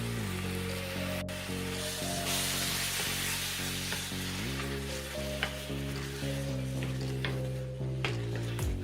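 Four hundred grams of tomato puree sizzles in a pan for chicken lasagna, a close, steady frying hiss with the scrape and clatter of stirring running throughout.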